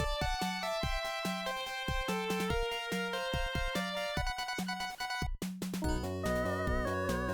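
Upbeat chiptune-style Mega Man: The Wily Wars stage music with bouncing melodic lines over a steady pulsing bass, continuous and fairly loud throughout, no voices.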